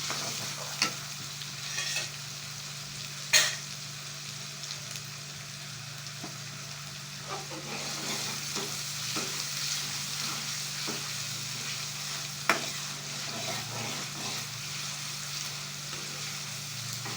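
Onion paste frying in a karahi for beef karahi, a low constant sizzle broken by occasional sharp knocks and scrapes of stirring, fairly quiet and close, no speech.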